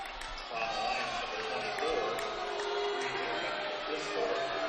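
Crowd at a high school boys basketball game between Leo and East Noble in a gym, murmuring and rising in a sustained, fairly loud reaction that carries through the whole stretch.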